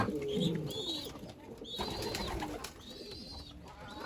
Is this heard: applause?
no